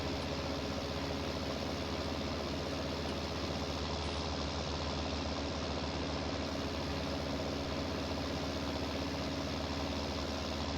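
An old tractor engine idles in Farming Simulator 19 with a steady, even low rumble and no speech or other sounds over it.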